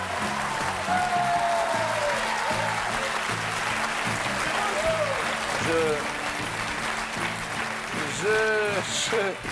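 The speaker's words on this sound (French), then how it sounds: "Je voudrais qu'on applaudisse Christopher" A studio audience at the French TV game show Attention à la marche applauds steadily for nearly ten seconds, a dense, continuous clatter of hands with music and voices rising over it.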